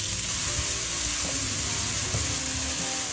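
Chopped onion, red pepper, scallion pieces and minced garlic frying in a little oil, giving a loud, dense, unbroken sizzle with faint stirring underneath.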